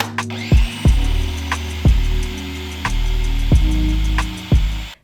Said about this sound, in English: You can also stop and scrape down the sides of your food processor to make sure that all of your tofu is getting broken down